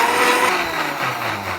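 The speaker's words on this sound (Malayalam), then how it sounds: "നന്നായിട്ട് മിക്സിന്റെ ജാറിൽ ഇട്ടിട്ടുണ്ട് അടിച്ചു കൊടുക്കുക" A mixer grinder whirs loudly as it blends lemon and butterfly pea flower juice with cold water in its jar, a steady motor drone close by that dips slightly in pitch partway through.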